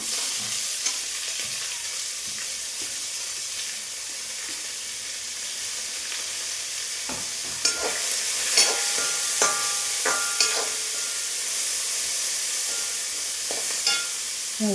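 Chopped onion, green chillies and curry leaves frying in a pan for taro leaf thoran, with a steady sizzling hiss and scattered scraping stir sounds that grow more frequent toward the end, close and moderately loud with no talking.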